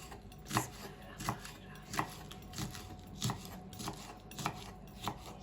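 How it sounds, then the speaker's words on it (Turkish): Bell peppers being chopped with a knife on a cutting board: a steady series of moderate thuds, about eight over a few seconds at a relaxed, even pace, close up with no speech. "biberlerimizin tohum kısımlarını çıkartarak istediğimiz büyüklükte doğrayacağız."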